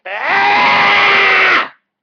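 An adult voice imitates a baby under one year old screaming, delivering one loud sustained shriek of about a second and a half that cuts off abruptly, close and alone.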